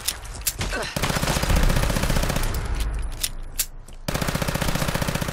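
M1911 pistol shots in a Fallout 4 weapon mod fire in fast, evenly spaced volleys. The crisp cracks come close and loud in long strings with a short pause between bursts, and a voice comes in now and then.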